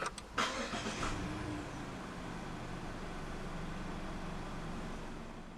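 A 2019 Mazda CX-5 2.0 SkyActiv-G engine cranks and catches after a few quick clicks on push-button start, then settles into a steady, low idle that hums on evenly.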